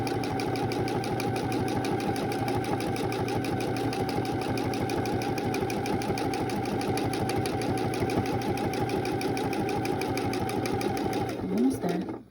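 Sewing machine stitching a fabric face mask, its needle chattering in a fast, even mechanical rhythm that runs almost unbroken and close up, then stops briefly near the end.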